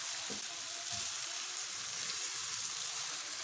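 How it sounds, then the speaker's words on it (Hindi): Eggplant bharta masala fries in a pan with a steady, dense sizzle throughout, broken by a couple of soft stirring scrapes near the start. "अब इसको तकरीबन 5 मिनट इसी कंडीशन में भून लेना है।"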